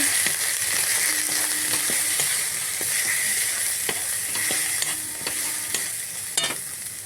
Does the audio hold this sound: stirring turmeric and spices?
yes